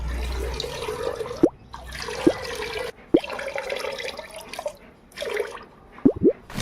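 Perfume being poured into DEP oil in a mixing container for agarbatti dipping: a steady liquid pour broken by short pauses, with a few sharp drips and splashes between the streams.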